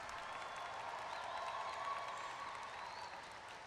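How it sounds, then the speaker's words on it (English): Faint, distant applause from family and friends at a college commencement ceremony, a steady wash of clapping with light cheering that continues evenly throughout. "can we do another big round of applause for your graduates here tonight?"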